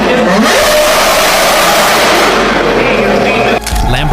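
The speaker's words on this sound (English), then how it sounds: "Lotus F1." A Lotus F1 racing car engine roars loud and close in a dense, continuous blast for several seconds, then drops off abruptly near the end.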